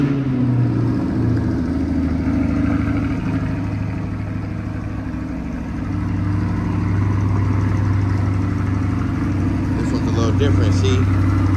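A Corvette C8 engine starts and settles into a loud, close idle with a deep steady rumble that dips briefly midway, then a light rev.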